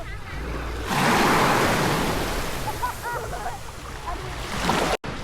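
Sea waves wash onto Lovina's black volcanic sand beach in Bali, making a close, steady surf roar that swells as a wave breaks and then hisses back. Wind buffets the microphone, and no one speaks.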